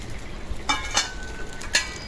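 Dried shutki fish fry in a hot wok with a soft background sizzle, broken by three crisp metallic scrapes and clinks of a spatula against the pan.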